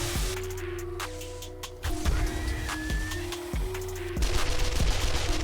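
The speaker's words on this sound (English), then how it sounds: "I'm shooting right through him." Gunfire at zombies in the survival game 7 Days To Die, a burst of rapid, punchy shots that repeat unevenly over a few seconds, mixed with game ambience and mechanical sounds.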